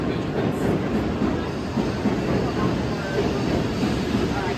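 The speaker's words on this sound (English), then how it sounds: "Going for a ride on the Shinkansen bullet train." A Shinkansen bullet train in Japan rolls along with a loud, steady rumble and rushing roar, close and continuous throughout with no break.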